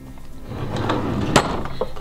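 Bedroom drawer holding eye palettes slides open in a quiet room, a soft rolling scrape building over two seconds with a sharp knock partway through, close and alone without talk.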